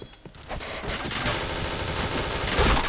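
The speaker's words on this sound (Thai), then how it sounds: "โอ้โห กระสุนไม่โดนสักนัดเลย" Rapid gunfire from the video game Point Blank rattles in dense, continuous bursts, loud and close, after a few brief opening shots.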